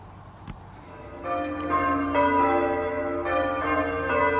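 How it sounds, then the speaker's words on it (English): Church bells ring out in a sustained, overlapping peal with rich ringing overtones, loud and steady, after a single sharp knock near the start. "Them bells kind of get to you in the end."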